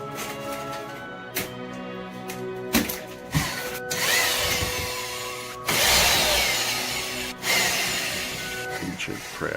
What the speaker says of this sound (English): Ancient craftsman drill.